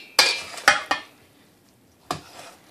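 Pancit bihon rice noodles tossed with vegetables and shrimp in a pan, giving three quick clattering scrapes close together, a pause, then one more clank with a short scrape.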